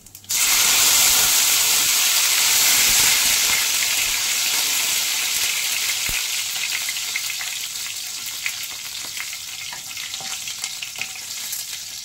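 Cumin seeds and curry leaves hit hot oil for tempering in a home kitchen, bursting into a loud, steady sizzle that slowly softens over several seconds, with faint spoon stirring and no talk.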